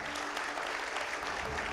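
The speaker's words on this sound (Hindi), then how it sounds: "मैं चाहूंगा तालियां तो आए पहले यहां पर।" Studio audience applause on an Indian talk show with film and political guests, a short, continuous wash of clapping from a crowd, fairly faint and distant.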